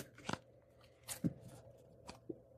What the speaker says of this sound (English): one day I'll master card shuffling